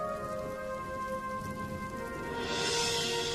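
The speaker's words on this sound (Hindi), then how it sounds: "लगातार 2 दिनों की बरसात के बाद शिवानी अपनी आध्यात्मिक शक्ति का प्रयोग करके बारिश घटा देती है" Steady rain pours down as a cartoon story sound effect, a dense, even hiss of falling drops that holds for several seconds with no voices.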